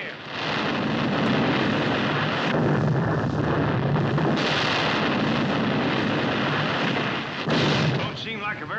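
Loud, sustained rumbling blasts of explosions throwing water into the air during an old television comedy episode, a continuous roar filling the whole stretch with little pause.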